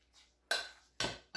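Meatloaf mixture mixed in a bowl for mom's meatloaf, heard as three sharp utensil scrapes and clinks against the bowl, close and fairly quiet, with short pauses between strokes and no talk.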